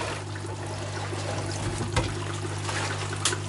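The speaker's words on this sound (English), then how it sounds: "just add that, you can hear it bubbling away" Steady liquid fizzing and trickling as hydrochloric acid and hydrogen peroxide bubble in a bucket with RAM sticks, a constant low hum underneath, and a couple of brief louder splashes partway through.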